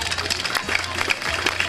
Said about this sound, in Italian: Un applauso a Mattia.